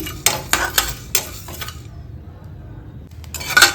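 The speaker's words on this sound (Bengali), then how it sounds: "এই যে পটপট করে ফাটছে, তার মানে এখানে বুঝে নিতে হবে ভাজাটা খুব সুন্দর হয়ে গেছে" Chillies crackling and popping while frying in a hot pan, several sharp bursts in quick succession, then quieter, then a few more pops at the end.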